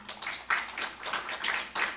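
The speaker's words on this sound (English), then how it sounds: "Give yourselves a round of applause" At an awards reception, a small crowd claps in a steady pattern of soft, repeated bursts that pulse evenly and continue throughout without any voices on top.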